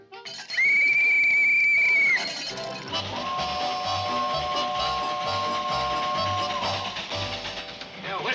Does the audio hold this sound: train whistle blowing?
yes